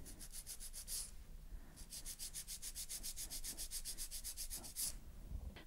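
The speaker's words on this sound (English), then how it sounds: "file straight out from the nail groove on the left." A nail file rasps rapidly back and forth across an acrylic-gel hybrid nail, quick rhythmic scratchy strokes in short bursts with brief pauses, faint and close.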